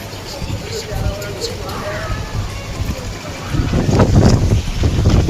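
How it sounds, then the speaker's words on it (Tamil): Strong stormy wind in Nepal buffets the microphone in loud, rumbling gusts that swell toward the end, with a voice speaking underneath. "செம்ம காற்று வருது, ஜில்லுன்னு காற்று வருது"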